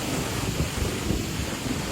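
Strong wind at a hillside campsite rumbles and buffets the microphone in a steady, loud roar, with no voices.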